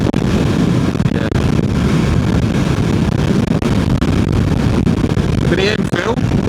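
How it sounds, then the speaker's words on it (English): Strong wind buffets the microphone during a ride on a Royal Enfield motorcycle, a constant loud roar with faint road and engine noise underneath. "Still incredibly windy. I was hoping it would die down a little bit."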